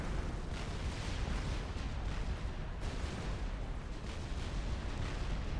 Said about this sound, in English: It's basically an artillery game here right now on the left flank.